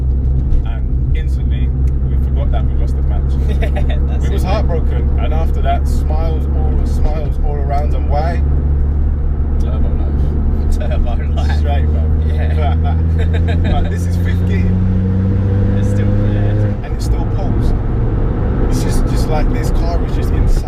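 Modified Ford Fiesta ST Mk7 with about 330 bhp, engine droning loud and steady while driving, pitch climbing through gears as it revs, then dropping off near the end, with people talking over the cabin noise.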